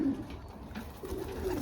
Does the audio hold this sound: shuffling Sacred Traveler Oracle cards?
no